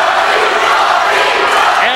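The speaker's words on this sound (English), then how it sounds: "You can hear the Holmen crowd yelling for Abeyta to pin Van Gundy." A Holmen wrestling crowd in a school gym yells and roars steadily for their wrestler to pin his opponent during a Tomah vs. Holmen dual meet, a dense, loud wall of shouting voices.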